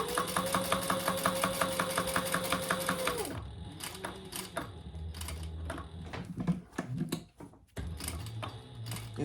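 A sewing machine top-stitches a bag with blue thread, a rapid, even mechanical whir that slows to a stop, followed by clicks and handling noises.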